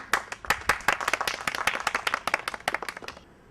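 An audience at a Jan Sanskriti Manch stage play claps in a dense, uneven burst of sharp hand claps for about three seconds, starting loud and thinning out toward the end.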